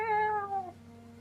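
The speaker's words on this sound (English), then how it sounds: "hear some meowing behind you" Several cats meow from close by above a train carriage, two or three drawn-out, falling cries overlapping in quick succession, with a low steady hum continuing after they fade.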